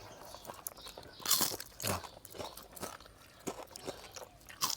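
Crunchy food being bitten and chewed, served with a bamboo shoot and mushroom curry, making a series of close, crisp crunches in irregular rhythm, some bites louder than others, with no talking.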